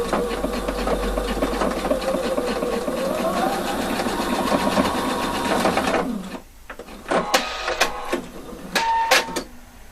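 A sewing machine runs steadily for about six seconds while stitching a shaped waistband with a zipper foot, then breaks into a few short bursts of stitching.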